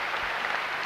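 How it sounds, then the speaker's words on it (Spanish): Tennis crowd at Roland Garros applauding Sergi Bruguera, a brief, dense burst of steady clapping from a large audience. "Sergio, estos aplausos."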